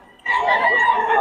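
A young stag gamecock crows loudly and close by, one sustained, wavering call that runs to the end after a brief lead-in of low background.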